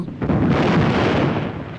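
Heavy artillery barrage from the war film Verboten! (Baïonnette au canon) by Samuel Fuller, a dense, continuous rumbling roar of blasts filling the whole stretch, loud and close with no talk.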